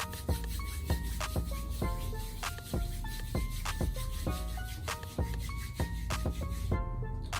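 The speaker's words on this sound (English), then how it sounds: "Okay, they both mix, so want to rub it in your hands." Hair product, mixed from two products, being rubbed between the palms: rhythmic, repeated close swishing and rubbing strokes, steady and fairly quiet, with music-like tones faintly underneath and no speech.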